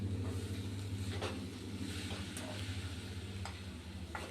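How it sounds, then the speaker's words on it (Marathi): Tender chickpea leaves with chilies, turmeric and salt are stir-fried in a pan, giving a continuous close sizzle broken by scraping strokes of the spatula over a steady low hum. "आता परतून घेणार आहे"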